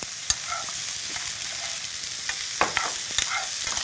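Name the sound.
stir-frying vegetables and dried acorn jelly in a pan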